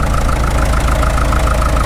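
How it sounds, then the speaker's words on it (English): A Caterpillar D2 bulldozer engine idles at low speed after sitting unused for years, a steady, loud, close rumble with an even pulsing beat running throughout and no talk. "Boy, that engine sounds great, especially after sitting for as long as it has."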